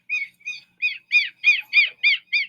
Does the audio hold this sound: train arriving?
no